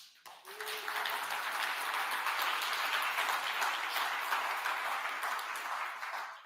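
An audience applauds with sustained, dense clapping that rises quickly, holds steady for several seconds, and fades slightly at the end.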